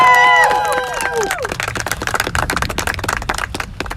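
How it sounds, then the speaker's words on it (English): Applause and clapping from a crowd at an outdoor protest gathering in Kentucky, starting right after a voice with tonal harmonics and continuing as a dense, steady patter of claps. "Let's give her a round of applause."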